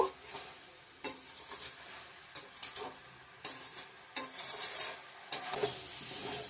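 Banana flower and potato pieces fry with spices in a pan, a soft sizzle punctuated by irregular clinks and scrapes of a utensil against the pan, close but quiet, without talk.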